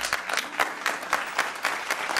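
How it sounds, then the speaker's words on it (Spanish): A short burst of audience applause at a comedy show, with distinct claps in loose rhythm and a few sharper peaks, fairly close and without talk. "Vamos, un aplauso."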